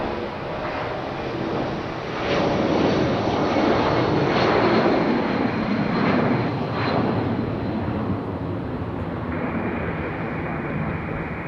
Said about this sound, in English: We got a 757 up for departure.